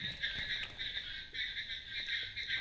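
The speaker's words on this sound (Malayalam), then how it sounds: "തവള കരയുന്ന വോളിയം" Frogs croak in a continuous chorus, a bright pulsing trill that swells and dips in short repeated bursts, fairly faint and steady with no talking.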